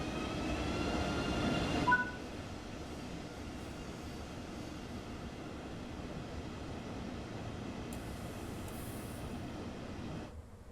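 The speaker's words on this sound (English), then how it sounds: "Oh, your train has arrived." A train in the Train Sim video game on the Kassel-Würzburg high-speed line runs with a steady, soft rumble after a brief louder start, faint and even throughout with no talk.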